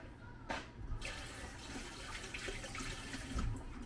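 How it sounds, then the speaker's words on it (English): Running tap water rinsing freshly handled garlic in a cowboy cooking setup, a steady splashing stream with a few louder gushes, close by and without talk. "Rinse that off."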